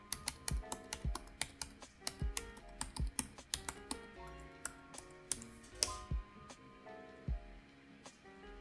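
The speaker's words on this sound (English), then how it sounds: "I can type in my password." A password being typed on a computer keyboard, a quick irregular run of crisp key clicks with a few heavier thumps, close and fairly quiet, with no voices.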